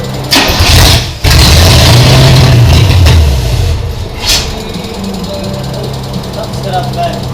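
A 1987 Monte Carlo SS, abandoned for over 20 years, cranks, fires and runs with a loud, rough engine roar that surges and settles into an uneven idle, with voices talking nearby.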